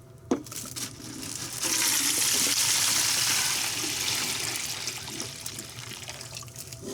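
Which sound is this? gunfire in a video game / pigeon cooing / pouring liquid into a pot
pouring liquid into a pot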